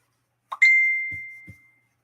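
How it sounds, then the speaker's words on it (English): A Facebook notification chime in a sewing-machine workshop: a bright, clear ding that rings out and slowly fades, followed by two soft low thumps, with no talk. "I think that was Facebook notification."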